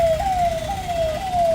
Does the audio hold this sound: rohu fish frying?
no